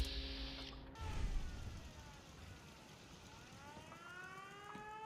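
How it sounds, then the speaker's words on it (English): A siren in the video game Fallout 4 wails in rising and falling sweeps, fairly faint, after a brief burst of noise at the start. "Why you guys got the siren on?"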